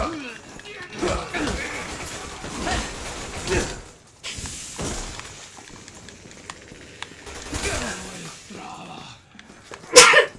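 A sneeze amid German-speaking players' chatter during Resident Evil 6 play, one of several sharp bursts in the clip.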